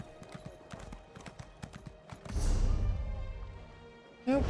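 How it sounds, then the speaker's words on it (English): Rhythmic hoofbeats clip-clop at a steady trot in the video game Elder Scrolls Online: Morrowind, followed by a swelling rush of noise and a brief whinny-like sound at the end. "Oh, they let me ride a horse in here?"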